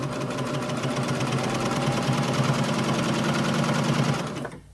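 A PFAFF admire air 7000 coverlock machine runs steadily, sewing a thread chain off the needles with a fast, even mechanical whir that stops abruptly near the end.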